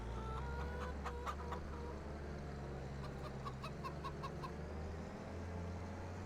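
Chickens and a rooster clucking in Farming Simulator 25, several birds calling in short bursts over a steady low farm hum, the clucks clustering early and again midway, fairly close and continuous.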